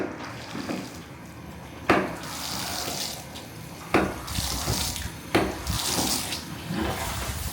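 Water runs in a house shower, a continuous hissing spray broken by a few sharp knocks and changes in flow as it is turned or adjusted.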